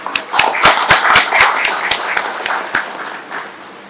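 Applause from a crowd at a community birthday celebration for Kamaraj held by a federation of Nadar associations: loud, sharp claps in an uneven burst that thins out toward the end, with no speech.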